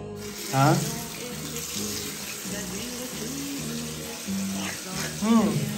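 Water runs steadily from a bathroom tap in Northern Europe, a continuous close hiss, with a voice speaking briefly over it near the start and end.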